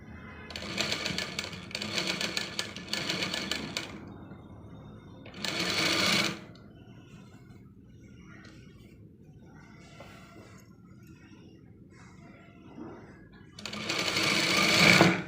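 Sewing machine stitching piping onto a round-neck blouse, running in several close, loud whirring bursts of rapid stitching separated by quiet pauses, with someone talking between runs.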